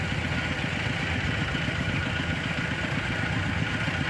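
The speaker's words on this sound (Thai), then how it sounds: "เสียงดังไปนิดนึงนะครับพอดีรถไถกำลังดูดน้ำด้วยพอดี" Farm tractor engine running a water pump, a steady mid-pitched chugging idle that pulses evenly and stays constant and fairly close, with no talk over it.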